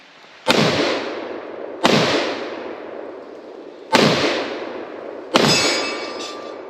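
Four shots from a SIG-Sauer MCX Spear 7.62 pistol strike a steel target, each a sharp loud crack followed by a ringing metallic clang that fades over about a second, evenly spaced at an outdoor range.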